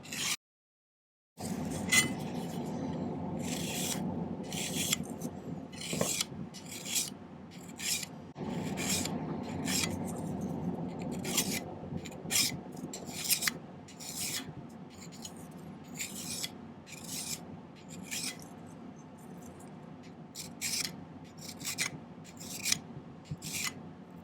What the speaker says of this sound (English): It's easy to do when you're filing the edge down like this.